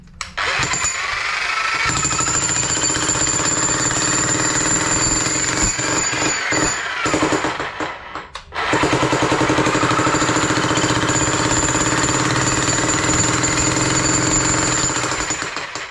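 A cheap Chinese jackhammer, freshly rebuilt, pounds away continuously and loudly nearby, its rapid rattling briefly pausing before resuming with an engine droning underneath.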